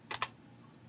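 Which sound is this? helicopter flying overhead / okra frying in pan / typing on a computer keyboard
typing on a computer keyboard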